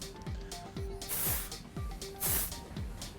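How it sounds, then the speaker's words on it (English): Quick Tease backcombing hair spray is spritzed onto backcombed hair in two short, close bursts, with rhythmic music playing underneath. "we're going to use this Quick Tease, which is a back combing spray"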